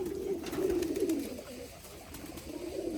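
Pigeons coo in repeated low rolling calls, fairly close and clear against a quiet background, with several overlapping phrases running through.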